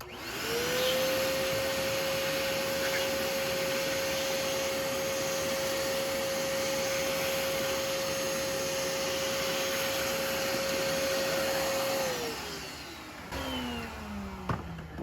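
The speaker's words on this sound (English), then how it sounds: "just grab a vacuum and that'll help you get all the debris out of the bow." A vacuum cleaner cleaning debris from a 1963 Lincoln convertible top bow runs steadily with a constant high whine for about twelve seconds, then powers down as the pitch drops away.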